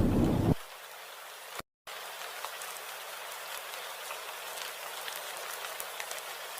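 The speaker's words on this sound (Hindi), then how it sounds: "हरी की पुकारें बारिश की आवाज में डूब जाती हैं।" Steady rain pours down in a continuous hiss, with scattered drops pattering against surfaces; a brief low rumble opens before the downpour settles in.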